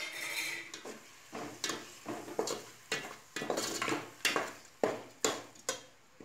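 Mushroom biryani masala is stirred in a cooking pot in a Chettinad village kitchen, about ten close, rhythmic scraping strokes of a spoon against the metal under a soft, faint sizzle.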